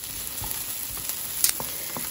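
Steak and garlic sizzle in a hot pan for steak quesadillas, a constant close frying hiss with small pops and a brief louder crackle partway through, no talking.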